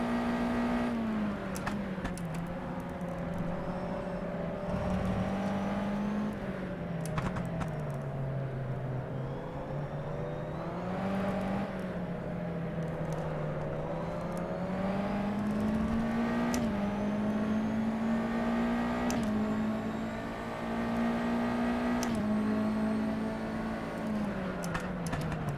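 Open-wheel USF2000 race car engine in the rFactor 2 simulator on the Homestead-Miami banked oval, a loud steady drone that rises and falls in pitch as the throttle eases and picks up through the corners, with no talk over it.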